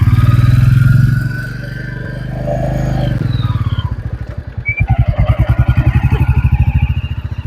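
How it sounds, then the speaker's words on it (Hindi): A Royal Enfield Classic 350 motorcycle idles, then pulls away with a steady thumping single-cylinder beat that grows louder as it rides off on a rough village road in rural Rajasthan, close and without talk. "अब हम निकल पड़े हैं हमारी क्लासिक 350 पे"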